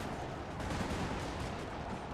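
Massed musket volleys in Napoleon Total War, a dense continuous crackle of gunfire with steady roar, no single shots standing out, sustained and fairly loud throughout.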